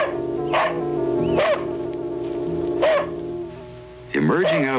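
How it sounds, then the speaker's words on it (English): A dog barks in short, loud bursts, several sharp yaps spaced a second or so apart over a steady background hum, close by and clear. "she was distracted by the incessant barking of her dog"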